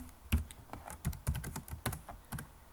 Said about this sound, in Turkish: Burada Türkçesini yazıyorum.